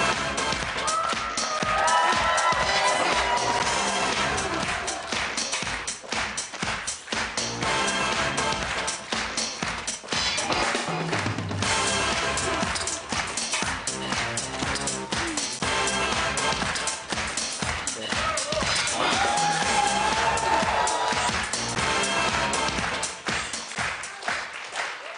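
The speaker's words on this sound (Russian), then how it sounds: "Аплодисменты зала." Studio audience applause on a fashion makeover show, a long, dense run of clapping mixed under loud background music that swells and stays busy throughout.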